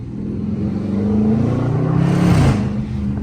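A Dodge Charger R/T with a 5.7-litre V8 revs hard in first gear, its deep burbling exhaust rising in pitch and volume to a peak, then dropping sharply as the throttle lifts, close and clear with no talking.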